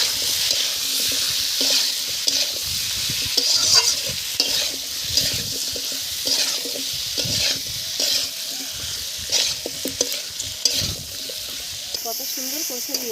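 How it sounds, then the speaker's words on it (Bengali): Chopped tomato with chili powder, salt and turmeric is stir-fried nearly dry for a prawn dish, its loud sizzle broken by repeated scraping and stirring strokes, with no talk. "কত সুন্দর কষে নিয়েছি দেখুন, একদম শুকনো শুকনো, তেল নেই বলতে গেলে চলে"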